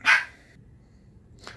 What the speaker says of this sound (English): My puppy's barking at Melina.